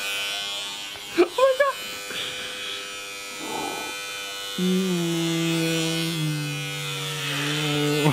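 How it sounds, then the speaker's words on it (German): An electric razor cuts long arm hair, a steady close buzz that starts midway and drops in pitch as the blades strain, while people talk and exclaim over it. "Ja, kämpft der Rasierer."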